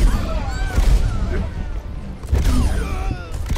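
Gunfire in the Overwatch video game comes in two punchy bursts of shots and booms, separated by a lull, with players talking over the game sounds.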